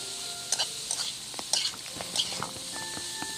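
Pansit noodles with chicken, carrot and beans stirred in a hot pan, a utensil scraping and clicking in irregular strokes over a steady background sizzle, close and moderately loud.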